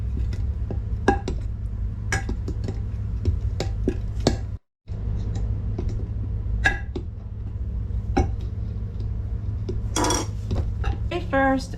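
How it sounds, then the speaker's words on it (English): A spoon stirs a sugar mixture in a bowl in a home kitchen, giving irregular clinks and scrapes of utensil against the bowl, close and fairly crisp, with a brief gap midway and a busier flurry near the end. "So I'm going to stir this for a little while to make sure it's all totally mixed up."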